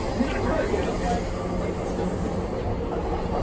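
Train pulling into Ikebukuro station in Tokyo, a continuous rumbling roll of wheels and carriage noise heard from inside, with voices talking over it.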